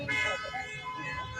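A car horn honks in a loud, sustained blast with a wavering, steady tone that lasts the whole moment, with faint voices in the background.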